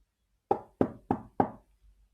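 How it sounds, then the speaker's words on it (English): Four firm knocks on a door, evenly spaced and fairly close, each a short hollow thud, followed by quiet. "He had just shut his eyes when there was a knock on the door."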